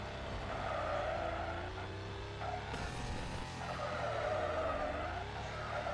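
Tires screech in a sustained skid as a car drifts in the mobile racing game Extreme Drift 2, the squeal wavering over a steady engine drone with no voices.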